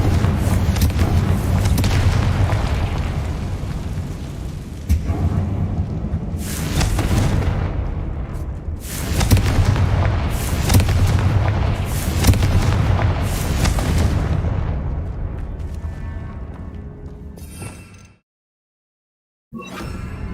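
Spell explosions from Confringo casts in Hogwarts Legacy, a series of loud booming blasts in close succession over a continuous battle rumble, ending in a short silence before the noise resumes.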